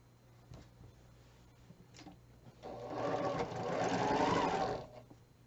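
A sewing machine runs a steady burst of stitching as quilt rows are sewn together, starting after a few quiet seconds with faint clicks, then running loud and continuous for about two seconds before stopping.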